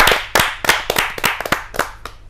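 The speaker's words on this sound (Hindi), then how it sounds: "आपकी जोरदार तालियां मिले" An audience at a Hindi kavi sammelan poetry gathering claps, with sharp hand claps coming in an uneven, scattered run that fades out near the end.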